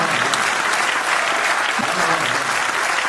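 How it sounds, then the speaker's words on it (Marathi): A crowd claps steadily throughout, dense and even applause from a large audience, loud and close with no voices standing out. "ज्याला ज्याला बायको आहे त्यांनी टाळ्या वाजवा"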